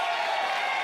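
Audience at a televised political debate applauding and cheering, a brief, steady wash of crowd noise with no voices on top.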